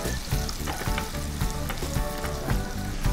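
Softened onions and two tablespoons of butter sizzle loudly in a pan, with steady crackling throughout and the scrape of stirring breaking in at a regular rhythm.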